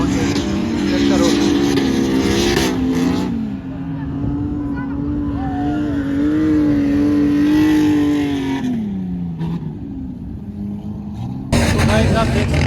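Several cars racing and drifting together on desert sand, engines droning loudly and steadily with rising and falling revs through the clip, and someone talks over the engine noise.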